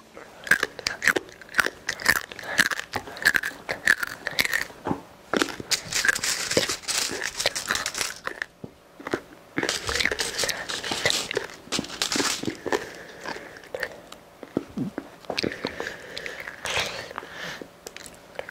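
Crunchy scorched rice (nurungji) is bitten and chewed close to the microphone, with loud, dry crackling crunches repeating steadily and short pauses between bites.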